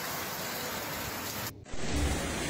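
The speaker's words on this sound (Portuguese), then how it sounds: "muita chuva na noite de sábado" Heavy night rain falling during a storm in the Brazilian sertão, a dense steady hiss that dips briefly partway through before returning loud, with no voices.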